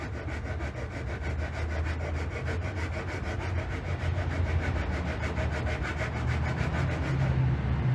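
A wooden plug glued into a guitar body is shaped by hand, giving a steady run of rhythmic rasping strokes, close and even throughout, with no talking.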